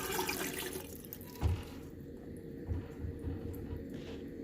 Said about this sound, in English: Empty the contents into a sink